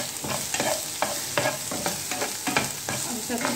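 A spoon stirs red chili into frying dabeli masala in a pan, with rhythmic scraping strokes close up over a gentle background sizzle and no voices.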